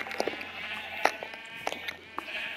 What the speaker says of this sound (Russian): Сейчас тебе заспавню тут так много овечек.